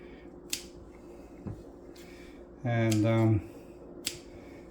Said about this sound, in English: I'm cutting the shrimp in 3 pieces. And I'm using a scissors.